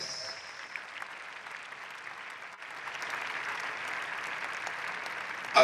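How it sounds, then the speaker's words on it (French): Church congregation clapping and applauding for the Lord, a steady dense spread of hand claps that holds at moderate level throughout and swells slightly toward the end. "Acclame très fort pour le Seigneur."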